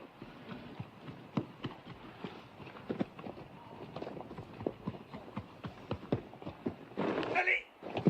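Horses gallop in a Western cowboy setting, hooves clip-clopping in a quick, irregular run of sharp knocks at moderate distance, with a louder burst of noise near the end.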